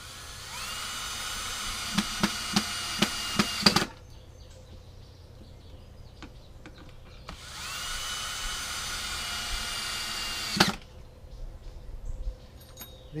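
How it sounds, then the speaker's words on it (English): A power drill drives long screws into a wooden frame for a top beehive air-flow box. Two long whirring runs can be heard, the first broken by several short trigger bursts, with sharp clicks as each screw seats and quiet gaps between them. "I put in pretty good sized screws to hold them."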